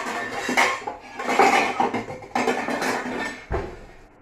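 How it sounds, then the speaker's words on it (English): Pots and pans clatter and clank in a home kitchen as a bigger pan is pulled out, with a run of metallic knocks, scrapes and a sharp final bang, fairly close and loud with no talking. "I need a bigger pan."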